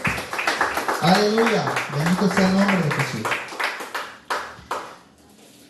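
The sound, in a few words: church congregation clapping for Jesus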